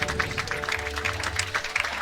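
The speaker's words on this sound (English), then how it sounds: "he gets a nice round of applause" Crowd applause at an amateur baseball game between the Hamilton Cardinals and Welland Jackfish on Fan Appreciation Day as a junior batter steps in: a steady, moderate patter of clapping from the stands, fairly even throughout.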